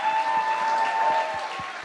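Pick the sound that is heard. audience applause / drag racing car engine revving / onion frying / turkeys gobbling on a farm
audience applause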